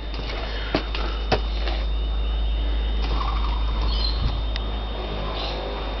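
Birds gobbling and calling around a parked car, a turkey-like or fowl-like chatter with a few sharp calls standing out over a steady low background hum.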